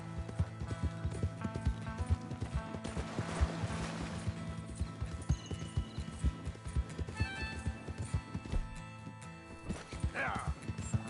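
A horse's hooves clip-clop steadily at a walk in Red Dead Redemption 2, close and rhythmic over quiet outdoor ambience, with a brief whinny near the end.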